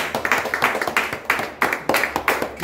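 A church congregation clapping together in a steady rhythmic beat, loud and close, with sharp repeated hand claps filling the space and no talk over them.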